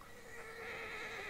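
A horse in the video game Drakengard 3 gives a loud, drawn-out whinny lasting about a second, heard alone without speech.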